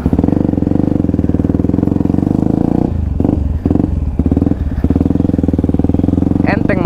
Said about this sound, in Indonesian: bulat pisan knalpot suaranya